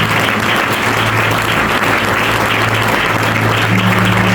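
Church congregation applauding loudly and steadily, a dense, close, sustained clapping from a large crowd with no break.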